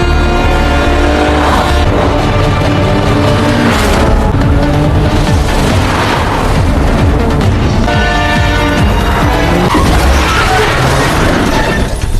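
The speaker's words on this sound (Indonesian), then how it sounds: "sehingga terjadi kejar-kejaran dan tabrak-tabrakan" A Korean film car chase with crashes: a loud, dense wall of roaring engines, impacts and smashing debris, with a heavy low rumble running throughout.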